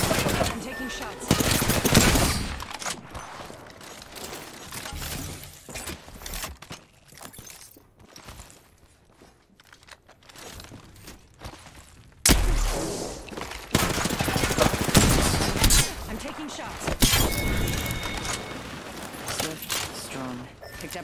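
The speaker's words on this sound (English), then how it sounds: "Shots fired, and they're hitting me." Bursts of rapid gunfire from an online battle-royale shooter, loud and close, coming in clustered volleys with a quieter lull midway before heavy firing resumes, under occasional talk.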